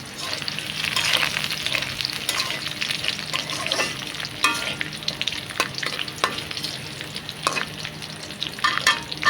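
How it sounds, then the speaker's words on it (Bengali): Whole spices such as bay leaf, cardamom and other warm spices crackle in hot oil. A close, continuous sizzle carries sharp pops and stirring scrapes, with no talk. "দিয়ে দিব গরম মশলা তেজপাতা ডাল আর এলাচ"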